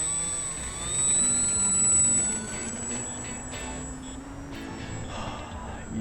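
An E-Flite PT-17 radio-controlled model biplane flies overhead, its electric motor giving a steady whining drone that swells nearer around the first two seconds and then holds at a moderate distance, with no talking.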